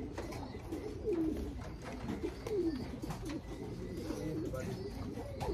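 Pigeons coo in a loft, several soft, rolling calls overlapping at close range against a low ambient hum, with brief faint voices nearby.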